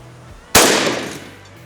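A single loud shotgun blast fired at a patterning target outdoors, a sharp close report followed by a decaying rumble over about a second, with no talk.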